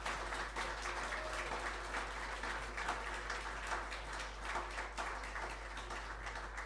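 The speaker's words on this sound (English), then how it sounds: "So let's get a round of applause," Audience applause at a livestreamed live music performance featuring tabla and sarangi players, a faint but steady sustained clapping from a small crowd over a low hum.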